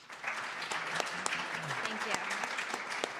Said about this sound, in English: So can we give a warm round of applause?